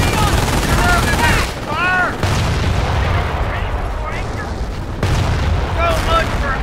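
Company of Heroes battle on Omaha Beach at Normandy: rattling gunfire, explosions and grenade bursts in steady succession, with in-game voices calling out over the fighting.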